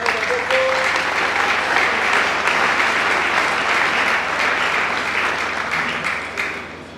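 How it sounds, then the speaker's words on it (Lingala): A church congregation claps together in sustained, dense applause, loud and even for several seconds before slowly tapering off toward the end. "Tobeta yango maboko."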